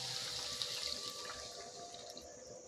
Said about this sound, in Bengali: নেওয়ার পরে এখানে আমি দিয়ে দেবো 1 বাটি জল।